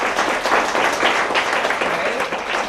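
Medium-strength applause from a science slam audience. Steady, dense clapping runs throughout at a moderate level, with some crowd voices mixed in.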